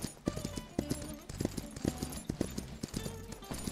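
A white horse's hooves in the video game Myth of Empires clip-clop in a steady walking rhythm, close and distinct, with a brief whinny-like tone mixed in.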